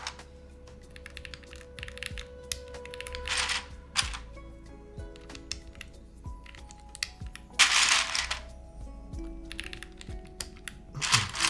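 Keycaps are pressed onto an IQUINIX Super 1+1 TKL mechanical keyboard. Sharp plastic clicks and snaps come in uneven bursts, close to the microphone and fairly loud, with quieter tapping and rattling between them.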